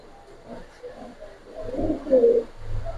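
A male racer pigeon coos close by in a few low, throaty, rolling calls, with faint background noise.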